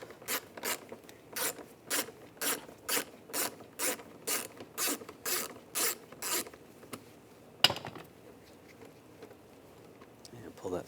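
A ratchet with a 7mm socket backing out a screw on a 2014-2018 GMC Sierra front door panel, a series of even clicking ratchet strokes, close and clear, then a single sharp clack.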